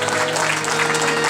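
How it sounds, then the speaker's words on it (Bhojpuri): An audience at a Bhojpuri bhajan performance claps steadily, a continuous wash of hands over a low hum of sound-system tones. "जिनके लिए अलग से ताली बजाइए आप लोग"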